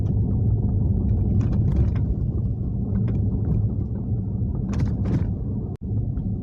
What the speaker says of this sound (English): Get plenty of road noise, but no noise from any kind of an engine.